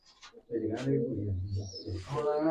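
Pigeons coo close by in low, throaty bursts at a pigeon loft in the Faridkot area, mixed with what sounds like nearby voices.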